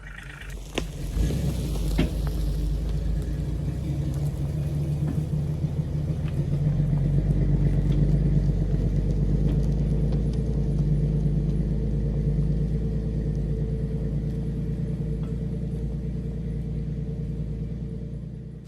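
A vehicle with a flat tire drags a chained log along a road, giving a steady, loud low rumble with grinding texture that holds for the whole stretch.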